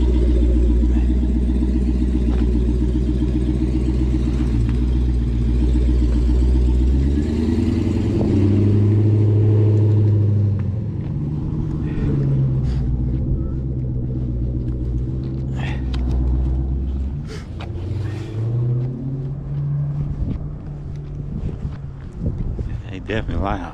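An old, loud Dodge car rumbles heavily nearby, its deep engine drone swelling and clattering as it passes, then easing to a lower rumble with some faint higher rattles toward the end.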